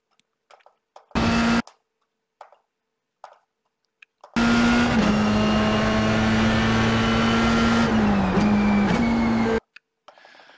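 Formula 3 race car in a racing video game at Watkins Glen, a loud steady engine drone with a held buzzing pitch that dips slightly as gears shift, preceded by a short rev and faint clicks.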